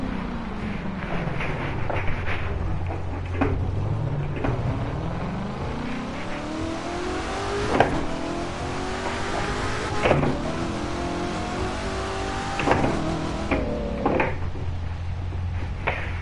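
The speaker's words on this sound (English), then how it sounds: "So I'm just currently driving around in my Corvette" A Corvette cruises in The Crew 2, its engine note rising and falling through gear changes at moderate volume, with a few sharp clunks and knocks scattered over the steady drone.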